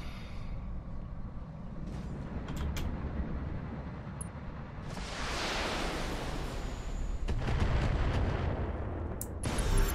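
Rumbling explosions and heavy weapon fire as SRM missile ammunition detonates inside a BattleTech mech, a continuous loud roar swelling midway with sharp bursts near the end.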